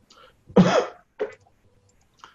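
A single sharp cough bursts out, followed by a softer second cough, then brief quiet breaths; close and fairly loud.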